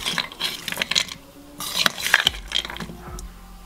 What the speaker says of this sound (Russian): Аккуратно перемешиваем.